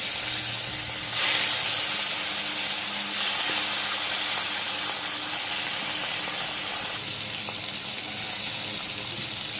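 Tilapia fish frying in hot oil in a heated wok: a steady, close, broad sizzling hiss that holds throughout, with a few brief brighter surges and no talking.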